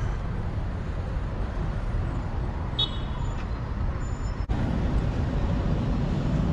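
Traffic on a main road in Kyiv, a steady broadband rumble of passing cars and buses with a brief high tone partway through, continuous and fairly loud, no speech.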